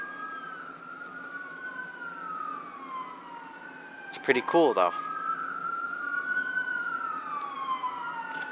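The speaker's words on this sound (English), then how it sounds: "Holy sirens, you can calm your shit." Emergency vehicle sirens wail on a city street at night, several overlapping tones sweeping up and down at moderate distance, with a loud, close burst of yelping siren midway, while a person talks over them.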